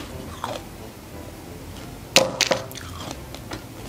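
Someone bites into and chews a chocolate-coated American snack with a hard, crunchy inside, giving a few sharp crunches close to the mouth and then quieter chewing, with no talk.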